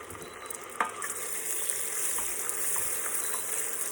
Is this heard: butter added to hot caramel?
yes